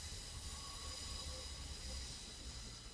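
Class 142 diesel unit 142054 departs Lincoln Central station, giving a faint, distant low rumble with a thin wheel squeal running throughout.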